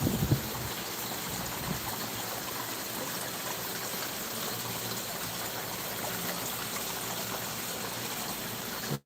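A creek runs close by beside a planted bed on a shrimp farm, water rushing and gurgling in a steady, dense wash that stays loud and unbroken throughout, with no voices.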